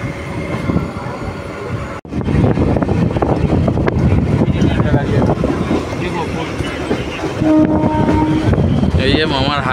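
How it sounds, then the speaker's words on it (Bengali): A train pulling into Krishnanagar City station beside another train already standing there, with a loud continuous rumble of wheels and carriages, squealing wheels and tonal horn or brake whines near the end, and voices talking underneath. "আগের ট্রেনটা আগে এসে দাঁড়িয়ে আছে, আমরা পরে এসে ঢুকছি"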